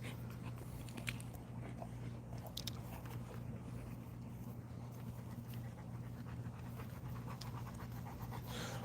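Family dogs of the Presa Canario type pant steadily and close by over a constant low hum, with occasional chewing and crunching sounds mixed in and no talking.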